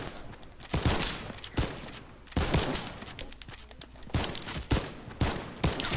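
Bursts of gunfire from a new gun in a video game, several separate volleys of loud rapid shots with short quiet gaps between them.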